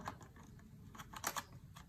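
Battery being pushed into a Sony a6400 camera and clicking as it locks in place, a few faint, close plastic taps and clicks in quiet surroundings.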